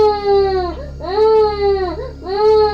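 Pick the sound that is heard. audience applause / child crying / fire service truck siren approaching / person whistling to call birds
child crying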